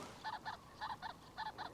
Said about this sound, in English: It's a wild duck somewhere.